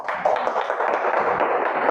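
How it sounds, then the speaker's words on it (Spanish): Hands clap together in a church congregation during a worship service, a brisk, steady patter of many palms close by that fills the whole moment without pause. "Dale un fuerte aplauso a nuestro Señor Jesucristo."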